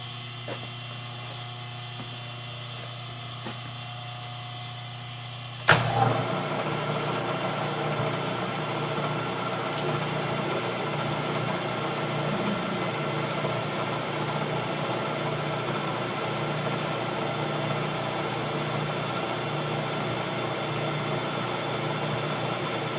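A three-phase rotary phase converter in a machine shop starts with a sharp thump, then runs as a steady, loud mechanical hum with a constant whine, alone and unbroken for the rest of the stretch.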